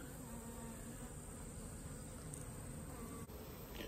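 Honeybees buzz around an opened hive, a faint steady drone of many insects heard close up without any talking.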